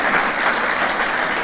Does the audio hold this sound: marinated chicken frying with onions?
no